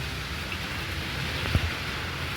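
A hailstorm in Illambazar, Birbhum pours down as steady, dense rain, a constant wash of noise with one brief knock near the middle and no voices.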